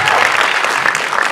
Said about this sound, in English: I want a big round of applause for this